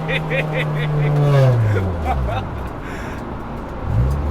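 A car engine revs and accelerates close by, its pitch sweeping down as it passes, then a fresh rise near the end, with people talking over it.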